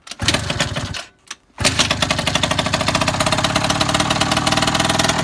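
A cold kick-started engine runs after flooding, a loud, close, rapid rattling putter that cuts out briefly near the start, then catches again and settles into a steady fast chug.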